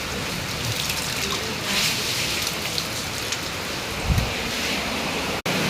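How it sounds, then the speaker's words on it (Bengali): Water pours and splashes steadily into a homemade swimming pool, a dense, continuous rushing hiss with a few louder gushes and a sharp brief dropout near the end. "পুরো দেখো জল নামছে, পুরো দেখো জলটা আসছে"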